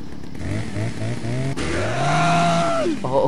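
A chainsaw enemy in Resident Evil 4 revs its saw in short repeated pulses, then a long rising whine and a falling sweep. Loud and close, with game sounds around it.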